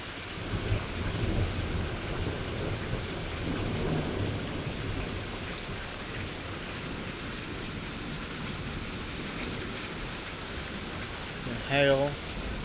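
Steady heavy rain pours throughout a thunderstorm in Tulsa, Oklahoma, with a continuous low rumble of thunder and a brief louder crackle near the end; no one talks.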